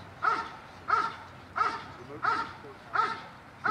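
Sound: protection dog barking while guarding

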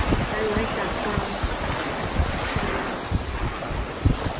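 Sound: ocean waves breaking on a Florida beach shore

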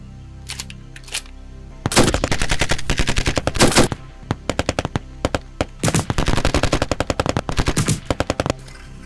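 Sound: machine gun fire

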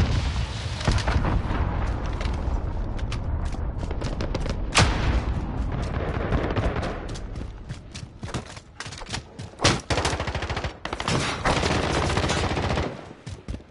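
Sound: missile launch and explosion in Modern Warfare video game

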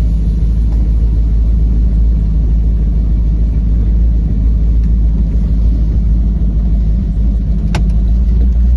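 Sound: 1929 Ford Model A hot rod engine running, pulled out

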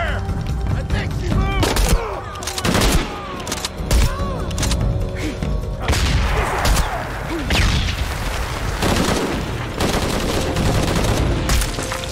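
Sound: gunfire in video game Shadow of the Tomb Raider

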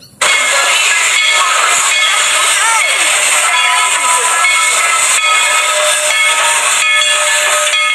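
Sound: Thomas toy train steam whistle sound

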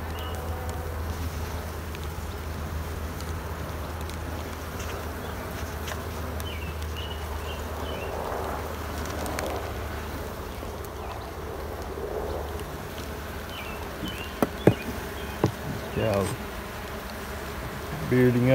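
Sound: honey bees buzzing around hive

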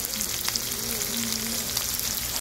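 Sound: Korean beef tripe (gopchang) grilling and sizzling

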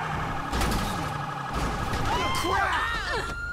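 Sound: police car siren in GTA 5 video game

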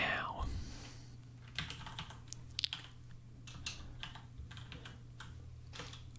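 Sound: typing on a computer keyboard

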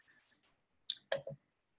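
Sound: computer mouse clicking

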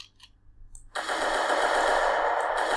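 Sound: bullet impact sounds hitting body and metal, Unreal Engine 4 game

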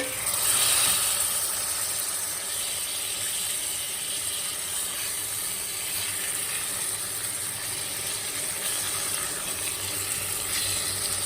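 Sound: prawns frying in oil with sorrel leaves

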